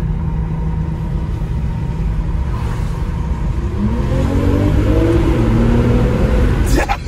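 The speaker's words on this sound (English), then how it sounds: "Did y'all hear the turbos?" A 2021 BMW M440i xDrive coupe accelerates hard, its turbocharged engine rising in pitch over a few seconds from inside the car, with a brief sharp whoosh at the end and a voice talking alongside.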